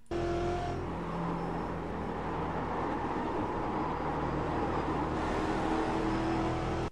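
A Ford Mustang race car in the iRacing simulator at Mosport, engine droning loud and steady throughout as it eases off for a corner, with a dense continuous roar that lightens slightly near the end.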